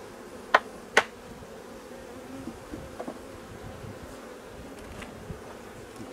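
Honeybees hum in a steady, moderately close drone around an open hive during a frame inspection, broken early by two sharp knocks and a few faint taps, with no talk.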